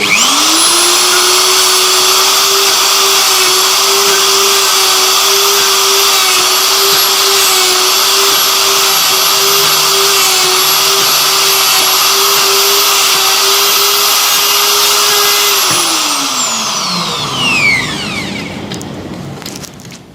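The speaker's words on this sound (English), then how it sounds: "Cutting a 34 millimeter wide mortise on a 22 millimeter thick" A plunge router cuts a 34 mm wide mortise into 22 mm thick timber, a loud steady high whine held for about fifteen seconds before the motor winds down.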